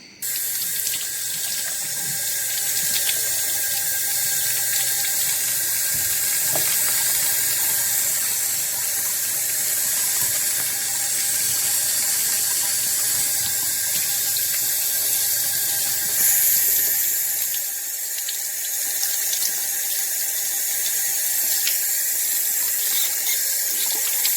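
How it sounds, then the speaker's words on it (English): Water pours steadily from a tap into a sink as hands are washed, a loud continuous hiss that lasts most of the time before quieting near the end, with no voices. "I need to wash my hands right now"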